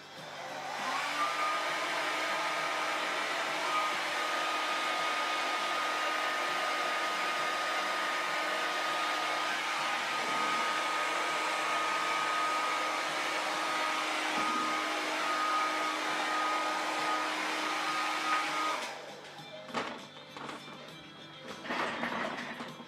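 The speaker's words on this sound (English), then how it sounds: "let's hit it with a blow dryer real quick" A blow dryer roars steadily and loudly with a constant high whine for most of the clip while drying paint on a kit, then cuts off, leaving a few soft clattering handling sounds.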